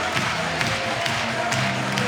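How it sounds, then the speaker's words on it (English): A basketball arena crowd at a FIBA 3x3 women's game between the USA and France roars and cheers in a steady, dense wash of noise, with a commentator's voice faintly underneath. "And the crowd is already getting in it."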